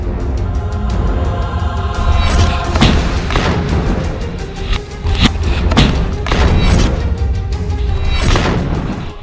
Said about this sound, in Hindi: ये लड़ाके आरपीजी, थर्मोबैरिक ग्रेनेड, रॉकेट से इजरायली सेना पर बेहद पास से हमले कर रहे हैं